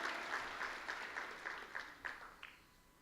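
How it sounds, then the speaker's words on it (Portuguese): Church congregation applauding in praise, a sustained wash of clapping with rhythmic swells that fades out near the end, no speech over it. "Salva de palmas ao Senhor."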